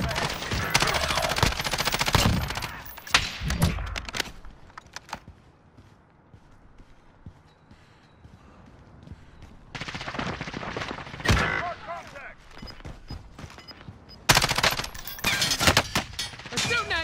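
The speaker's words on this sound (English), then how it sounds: "They're shooting at me!" Video game gunfire aimed at the player, with bursts of rapid shots in the first few seconds, a quieter stretch, then renewed loud volleys near the end, with a voice briefly audible among the shots.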